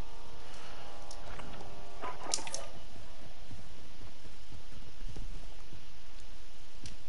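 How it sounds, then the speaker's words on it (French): Footsteps in Call of Duty multiplayer, a scattered run of soft, uneven steps, with a brief louder cluster early on, over steady game ambience. No one speaks. "j'entends marcher"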